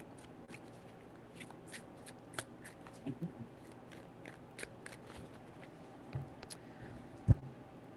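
Tarot cards being shuffled, a series of crisp riffling bursts and soft slaps in irregular rhythm, close and clear with no talking.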